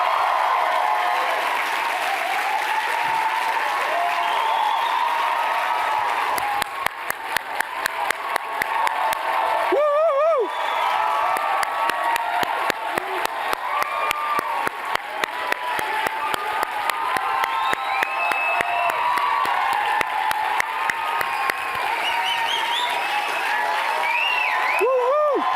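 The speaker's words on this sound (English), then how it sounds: "clap your hands for Ice Cube and Kevin Hart?" A live crowd at an event with Ice Cube and Kevin Hart claps and cheers for over twenty seconds, with whoops and shouts rising over the sustained applause and sharp near claps in the middle stretch.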